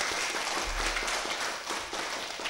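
Audience at a mayoral candidate debate clapping, a dense, even burst of many hands, fairly loud and continuous with no talk over it.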